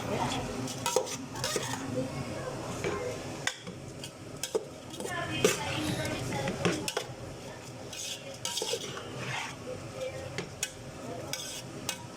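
Rice stirred into food in a pan for an Arabic dish, with a metal spoon scraping and clinking against the pan in irregular strokes and a faint sizzle underneath.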